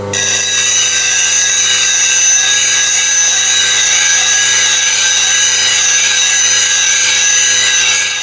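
A bowl gouge heel pressed against a spinning grinding wheel, giving a loud, steady abrasive hiss with a high whine that runs unbroken from start to finish, with no talking.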